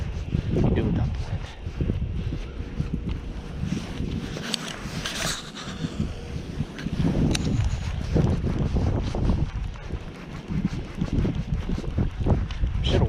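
Gusty wind buffets the microphone outdoors on a fishing trip, a continuous rough low rumble that rises and falls, with someone talking over it at times.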